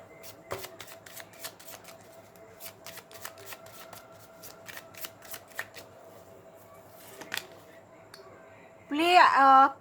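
Tarot cards being shuffled in a long run of crisp, rapid riffles and flicks, fairly close and steady, ending in a brief burst of louder voice.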